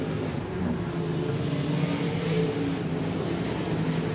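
Late model street stock cars racing at Wagner Speedway, a continuous loud roar of engines droning and revving together as the pack circles the dirt track, steady and close with no pauses.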